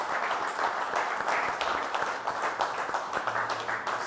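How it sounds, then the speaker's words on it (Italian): Studio audience applause on an Italian television programme, a steady wash of clapping held at even loudness for the whole stretch with no voices over it. "Facciamo un applauso a Snidero e grazie."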